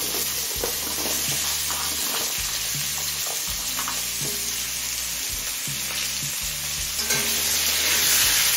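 Potatoes and vegetable stalks fry in oil with cumin and bay leaf, giving a dense continuous sizzle and crackle under repeated thumping stirs of a spoon against the pan, with no talking.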